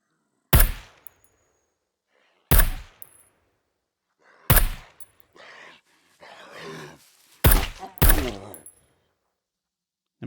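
Gunfire in the survival game SCUM, five sharp, loud single shots spaced about two seconds apart, the last two close together, each cracking out of near silence with faint groaning sounds between.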